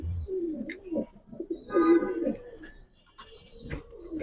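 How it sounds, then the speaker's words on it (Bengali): A large, strong racer pigeon coos close by in low, throaty rolling phrases, with a few soft chirps and faint background voices. "বিশাল বড় সাইজের স্ট্রং একটা কবুতর"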